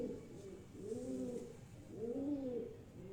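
Domestic-bred pigeons on a rooftop loft in Nawabshah, Sindh, cooing in two soft, rolling, throaty calls, close by and quiet against faint background noise.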